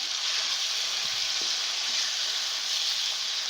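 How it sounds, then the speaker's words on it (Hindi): Kashmiri sweet beef, meetha gosht, sizzles steadily in oil in a pan, a continuous bright frying hiss with faint stirring and no talking. "ये देखें, वैसे तो ये अच्छे तरीके से भून रहा है"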